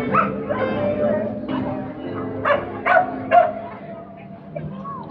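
Several dogs at a farmer's market let out yips, whimpers and short barks in irregular bursts nearby, mixed with voices of people talking in the background.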